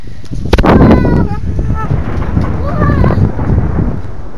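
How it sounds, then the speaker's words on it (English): Low rolling thunder rumbles during a snowfall, with wind buffeting the microphone and voices talking over it. "Thunder! Thunder,"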